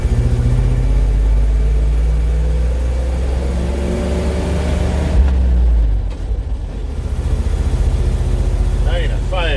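Bucket truck engine idling as it warms up, a loud, steady low rumble with slight shifts in pitch and a short dip near the end, while a voice talks over it.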